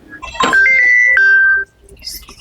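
A phone call rings with a single short electronic tone lasting about a second, clear and close, followed by quiet.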